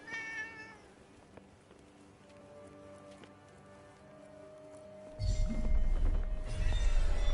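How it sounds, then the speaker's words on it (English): A cat meows a few times at the start, a clear tonal call, before a loud burst of hissing noise like rain takes over the last couple of seconds. "cat."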